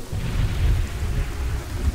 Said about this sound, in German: Gewitter sind nämlich sehr laut.